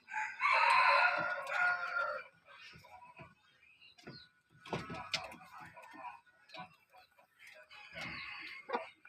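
A seven-to-eight-month-old young rooster crows loudly and close by, a rough, uneven call, followed by quieter clucks and a few more crowing attempts.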